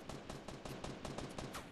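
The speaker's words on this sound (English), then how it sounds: "those shots are so close" Rapid gunfire close by in the Fortnite battle royale game at Tilted Towers, a dense series of about a dozen sharp, loud reports in quick, slightly uneven rhythm with no talk.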